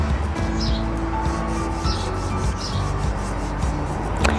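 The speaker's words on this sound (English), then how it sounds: "petals are great for doing rubbings, like this beautiful yellow" Flower petals being rubbed onto paper to make a colour rubbing, a steady close scratchy rasping that runs continuously for several seconds, with no talking.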